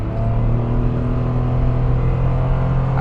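A 2024 Mitsubishi Mirage pulls away from a standstill at full throttle, its small engine droning in a loud, steady, strained hum with a low rumble, heard from inside the cabin with no talking.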